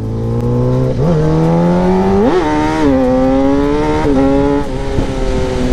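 A modified KTM Duke 390 motorcycle rides past up close with a loud, steady engine drone. The pitch climbs and dips through several rev surges and gear changes, and no one speaks.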